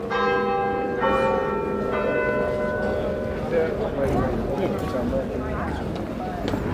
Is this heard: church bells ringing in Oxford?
yes